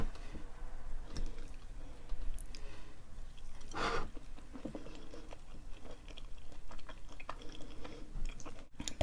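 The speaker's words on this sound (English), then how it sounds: "Let's take a bite." Close, crunchy chewing of loaded cheesy bacon fries with potatoes, soft wet mouth sounds and occasional crisp bites, recorded near a new microphone during an eating show.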